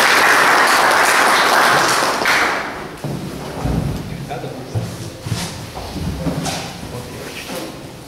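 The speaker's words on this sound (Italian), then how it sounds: "facciamo un applauso" Audience applause at an evening magic conference session, a dense loud wash of clapping for about three seconds that then fades into scattered thumps and talking voices.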